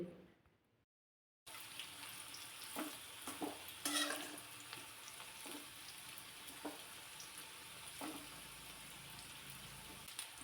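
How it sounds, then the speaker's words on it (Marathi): Methi vadas shallow-frying in a little oil in a kadhai, a close, steady sizzle with scattered taps and scrapes of turning, starting after a second of near silence and running on without talk. "कढईमध्ये जरासं तेल गरम करायला ठेवलं आणि त्यामध्ये हे वडे छान असे खरपूस कलर येईपर्यंत परतून घ्यायचे"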